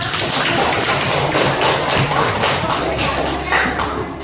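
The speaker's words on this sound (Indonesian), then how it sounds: "Tepuk tangan untuk kelompok 5." Audience applause for a group's presentation in a training class, a dense rattle of many hands clapping near and loud, steady for several seconds with a little talk mixed in.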